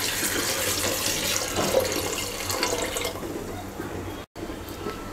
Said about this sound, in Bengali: মাংসটা সিদ্ধ করার জন্য 1 লিটারের মতো পানি দিয়ে দিচ্ছি